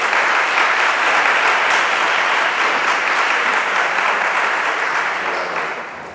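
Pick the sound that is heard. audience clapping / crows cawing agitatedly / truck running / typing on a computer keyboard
audience clapping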